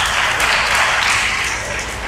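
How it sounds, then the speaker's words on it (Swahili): Audience applause at a career guidance seminar for students at a practice school in Chang'ombe, a steady, dense wash of many hands clapping at once, filling the whole short stretch at even volume. "Naomba tumpigie makofi"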